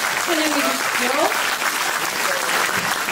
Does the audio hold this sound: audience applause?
yes